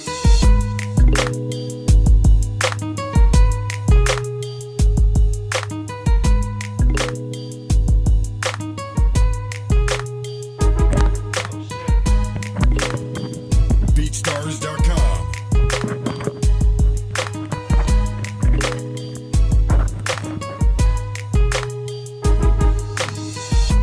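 Hip-hop beat from a BeatStars store, playing alone at steady loudness with a punchy repeating kick and bass pattern, bright rhythmic percussion and layered melodic lines looping throughout.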